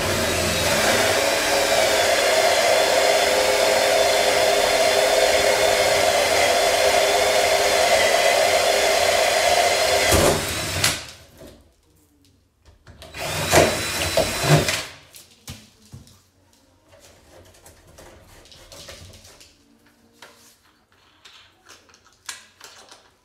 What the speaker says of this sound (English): both those holes are drilled.